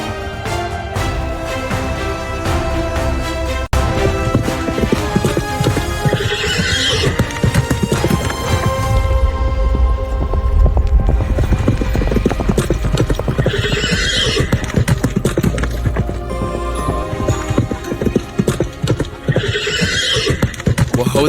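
Horse hooves clip-clop at a steady galloping rhythm, close and loud, with whinnies and neighs breaking through over a dense continuous music bed, in a dramatized story scene of a young woman riding with purpose through a village.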